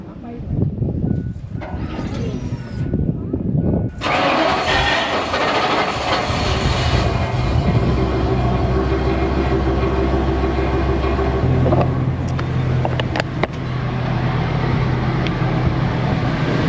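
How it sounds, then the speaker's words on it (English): RV motorhome engine being cranked after a fuel pump replacement, a steady loud mechanical drone with low rumbling hum that shifts pitch midway, continuous throughout without talk. "I'm gonna go ahead and try to crank it."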